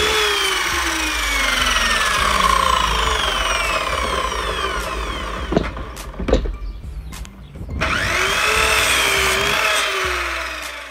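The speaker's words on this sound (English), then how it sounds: "I'm going to use some 2x3 timber and cut each end at a 45-degree angle" Power saw cutting 2x3 timber at a 45-degree angle, a loud close whining cut that falls in pitch as the blade works through, a short gap with clunks, then the saw spins up and cuts again.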